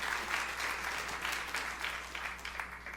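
Brief, fairly faint applause from a church congregation during a sermon, scattered claps over a low hum, thinning out toward the end.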